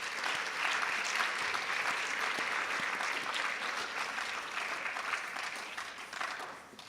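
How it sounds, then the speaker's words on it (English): Audience at the Miss Provo 2018 pageant applauding: dense, steady clapping from a large crowd that stays loud throughout and tapers off at the very end. "let's please give them a round of applause"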